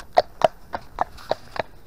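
Horse hooves clip-clop on a ride through the woods, six distinct evenly spaced hoofbeats close by, with no talking.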